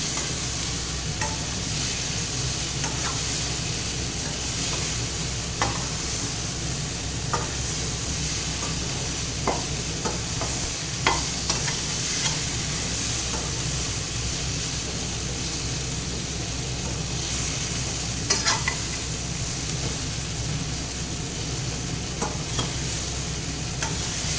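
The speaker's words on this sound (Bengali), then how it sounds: "দেখো, আমার মশলা একদম সুন্দর করে ভাজা হয়ে গেছে, ফুলকপি আলু মশলাটা।" Cauliflower, potato and spices fry in a pan with a steady, continuous sizzle and hiss, punctuated by occasional scraping stirs, close and unbroken throughout.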